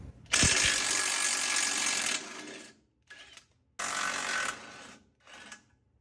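Bursts of rapid ratcheting from an 18 mm wrench loosening bottom strut bolts during a Bilstein leveling kit install, a long run followed by shorter ones with pauses between, close and clear.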